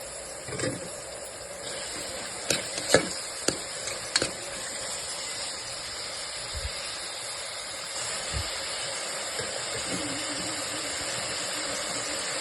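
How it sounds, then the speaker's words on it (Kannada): Onion, tomato and curry leaves fry in a little oil for tomato rice, making a constant soft hiss broken by a few sharp pops and clinks near the start. "ಆನಿಯನ್ ಮತ್ತು ಟೊಮೆಟೊ ಸ್ವಲ್ಪ ಎಣ್ಣೆಯಲ್ಲೇ ಫ್ರೈ ಮಾಡಬೇಕು"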